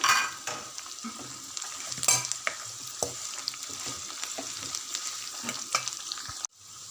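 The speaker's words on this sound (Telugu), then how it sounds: "ఫ్రై చేసి పెట్టుకున్న ఆలుగడ్డ ముక్కలు వేసి బాగా కలపాలండి" Fried potato pieces with onion, curry leaves and green chillies get stirred in a hot pan, a close, steady sizzle broken by repeated scraping and tapping of a spatula, no voices.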